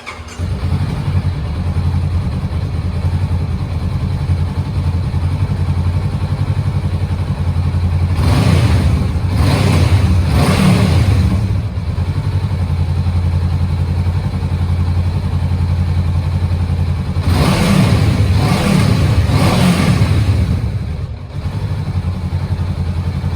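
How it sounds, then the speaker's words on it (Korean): A Honda CBR500R motorcycle engine idles steadily up close, then is revved sharply twice in short bursts, each rising and falling before the idle returns, with no one speaking. "엔진 사운드도 들어보겠습니다."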